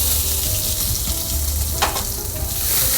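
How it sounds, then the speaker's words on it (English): Onions sauté in olive oil in a warm pan, a steady close sizzle and crackle that holds unbroken throughout, with a brief stir or clink midway. "Start by sauteing your onions off."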